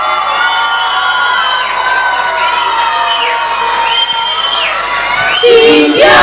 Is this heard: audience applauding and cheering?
yes